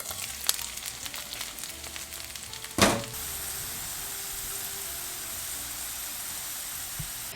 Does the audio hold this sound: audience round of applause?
no